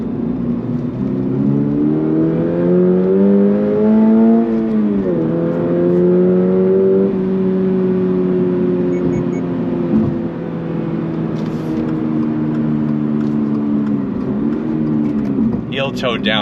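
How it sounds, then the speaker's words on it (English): A 2025 Toyota GR86 Hakone Edition engine during heel-toe downshifts, its loud, close drone rising and dipping in pitch with blips and gear changes, the tones sweeping steadily over about sixteen seconds. "Heel toe downshifting is so wonderful in this vehicle"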